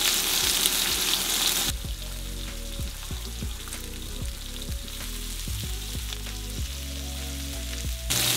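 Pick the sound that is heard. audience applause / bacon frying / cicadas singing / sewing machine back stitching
bacon frying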